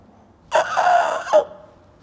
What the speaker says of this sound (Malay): Dia dengar ayam kokok dah cukup untuk peringatan dia.